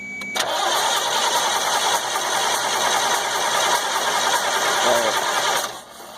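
A 1998 GMC C8500 truck with a 3116E diesel engine cranks without catching, the starter whirring steadily for about five seconds before it cuts off.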